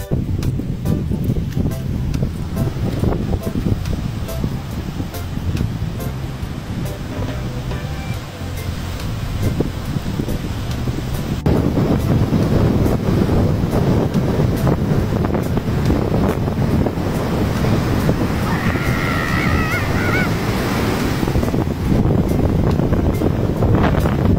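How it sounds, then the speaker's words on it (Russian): Steady roar of ocean surf and wind buffeting the microphone on a beach at Hikkaduwa, Sri Lanka, continuous and loud throughout, with waves washing in close by. "мы уже пришли к океану"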